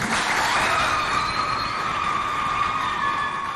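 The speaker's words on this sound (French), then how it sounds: "On l'applaudit." Audience applause at a Chadian school quiz contest between CEG de Koutou Moundou and CEG de Doumbeu, heard as a dense, sustained wash of clapping that stays loud and even throughout.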